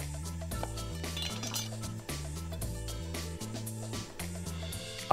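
Tarhoňa pasta salad with olive oil, lemon juice, salt and pepper being mixed in a bowl, giving a rhythmic series of light clinks and scrapes of utensils against the dish, with music playing behind.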